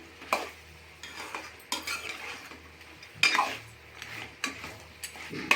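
Ginger garlic paste fries in a pan while being stirred for a goat head curry, with soft sizzling under irregular scrapes and clinks of a spoon against the pan, close by and without voices.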